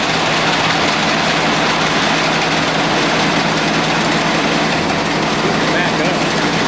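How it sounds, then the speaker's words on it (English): A grain auger runs while it fills a grain buggy on a farm, making a loud, unbroken mechanical drone and rumble that stays constant and close throughout. "So now we just got the auger to it and we're gonna auger it into the buggy."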